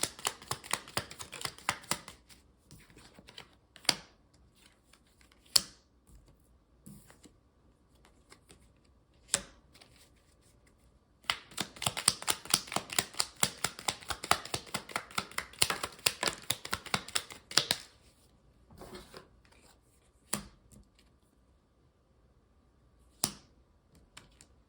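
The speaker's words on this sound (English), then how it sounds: "while I shuffle cards" Playing cards being shuffled: isolated sharp snaps, then a long dense rapid riffle of clicks, followed by more scattered single snaps.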